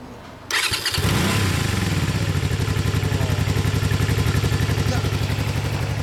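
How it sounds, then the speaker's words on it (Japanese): Honda VTZ250 motorcycle, a final-year model, cranking and firing up, then settling into a steady, close, rhythmic idle with even pulsing exhaust beats and mechanical clatter. "ならエンジン音聞かせてもらおうかな"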